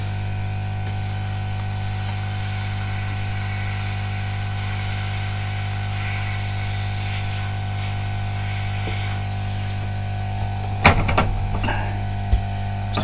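A hot air rework station's blower runs steadily with a constant hiss and low hum, followed by a few sharp clicks and knocks near the end.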